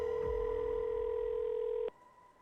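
A steady telephone dial tone on a mobile phone placing a return call, holding evenly for about two seconds before cutting off abruptly into quiet.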